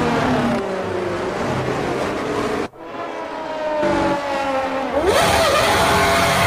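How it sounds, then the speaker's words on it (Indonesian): A toy F1 race car plays electronic racing sounds: a loud whining engine tone, then a brief cut-out, more revving, and a rising siren-like squeal at the end. "ini mobil balap"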